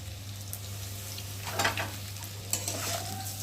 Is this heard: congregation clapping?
no